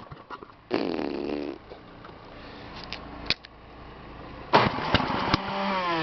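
An old flathead engine being cranked in snowy weather with the choke on: two bursts of rough starter cranking that sputter and catch briefly, then fade, with a sharp click between them and a low background hum.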